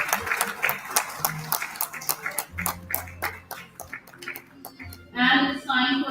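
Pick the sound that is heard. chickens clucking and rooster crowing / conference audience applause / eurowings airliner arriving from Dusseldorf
conference audience applause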